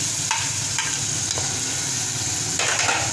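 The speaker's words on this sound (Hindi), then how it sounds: "थोड़ा सा इसको चला लेंगे हम।" Masala for fish curry, with tomato, green chilli, ginger and a splash of water, sizzles in a pan while a spoon stirs it in several scraping strokes over a constant close frying crackle.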